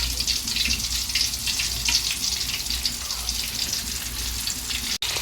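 Flour-coated chicken lollipops fry and brown in hot oil, making a loud, dense, continuous bubbling sizzle close by.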